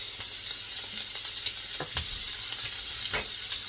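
Italian sausage browns in a soup pot as onions are added, a close, steady sizzle with a few soft stirring scrapes and light clicks, no talking.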